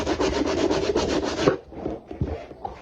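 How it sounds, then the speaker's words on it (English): Sandpaper rubs steadily back and forth over the scalloped frets of a Nema Model ST-25 guitar neck, a close, even scratching for about a second and a half before giving way to faint handling knocks. "The sandpaper really is perfect. It smooths the whole thing out"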